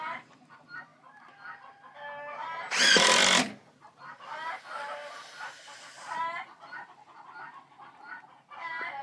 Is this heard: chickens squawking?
yes